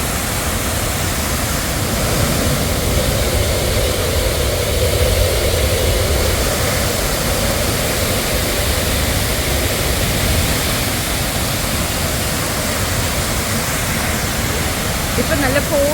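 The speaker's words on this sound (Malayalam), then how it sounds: "ഇപ്പം നല്ല ഫോഴ്സിൽ വെള്ളം വീഴുന്നത് കൊണ്ട് ഇവിടെ ഇപ്പോൾ എല്ലാം ബ്ലോക്ക് ചെയ്ത് വെച്ചിരിക്കുക" Thripparappu waterfall pouring with great force, a dense, steady roar of rushing water filling the whole scene without letup, loud and close.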